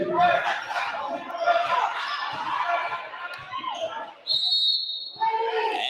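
A short, shrill referee whistle blast cuts through an announcer's talk over arena crowd noise at a college basketball game, with a sharp second tone following moments later.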